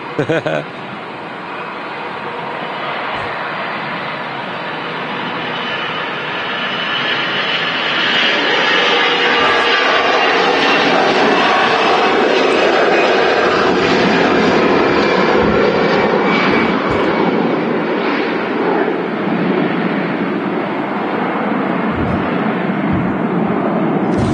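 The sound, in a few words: jet airliner engines at Manchester Airport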